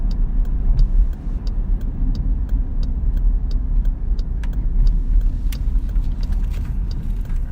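A car speeds along a residential neighborhood street, its engine and tire rumble steady and fairly loud, with faint ticking clicks on top and no speech.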